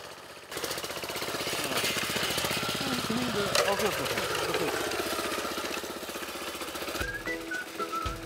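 A walk-behind cultivator engine runs steadily close by as it weeds a bean field, a continuous rattling drone with a higher whine, and a voice talks over it near the end.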